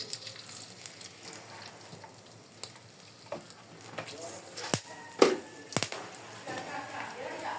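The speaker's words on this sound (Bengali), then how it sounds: "আমার তেল গরম হয়ে গিয়েছে এখন দিয়ে দেবো আমি তিনটো তেজপাতা চার পাঁচটা টুকরো লবঙ্গ এবং চার পাঁচ টুকরো এলাচ এবং তিন টুকরো দারচিনি" Bay leaves, cloves, cardamom and cinnamon sizzle faintly in hot oil in a kadai, a soft continuous crackle broken by a few sharp clinks and pops as pieces drop in, while a voice talks over it.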